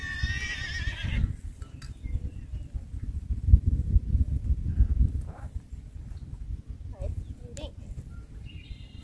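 A horse whinnies in a brief high call at the start, followed by rumbling movement and scattered hoof clops outdoors, with faint bird calls and wind-like noise throughout.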